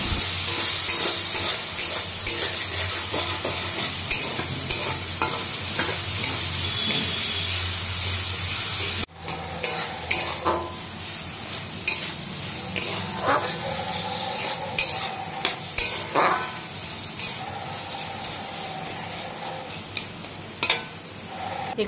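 Shrimp malai curry with whole spices and finely ground onion sautés in a pan, a loud sizzle at first, then a quieter simmer with repeated spoon scrapes and clinks, close up, no talk.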